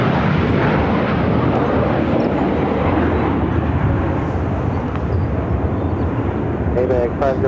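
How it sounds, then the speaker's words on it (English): A DHL ABX Air Boeing 767-300ER converted freighter jet at Phoenix airport gives a loud, sustained roar that holds steady across the whole stretch. "DHL ABX Air, converted 767 to 300 ER, will be heading to"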